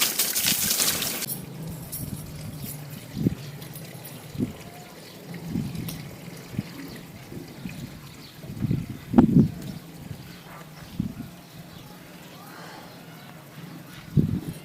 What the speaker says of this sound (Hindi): बिल्कुल साफ सुथरा पानी अभी ये पौधों में जा रहा है।